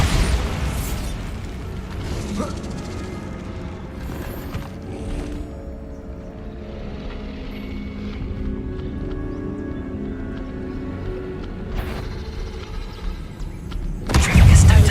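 Bombarda explosion spells in the video game Hogwarts Legacy, heavy booming blasts under continuous game music and combat noise, with a loud burst near the end.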